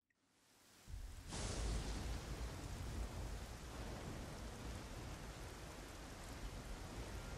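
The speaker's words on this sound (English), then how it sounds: "nice little storm, rocks everywhere" Thunderstorm with heavy rain in the action game Nioh: near-silence swells into a loud, steady roar of downpour after about a second, with a thunder crack and rumbling underneath, continuing unbroken.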